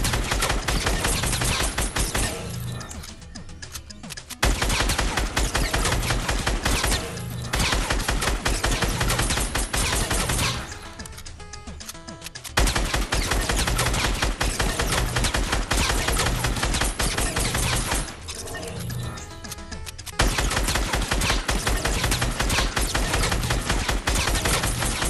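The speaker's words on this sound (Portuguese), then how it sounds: "E você ficar atirando durante um certo tempo nesse boneco que vai aparecer." Rapid automatic gunfire in Fortnite is aimed at a target dummy, with loud sustained bursts separated by short pauses over about twenty-five seconds.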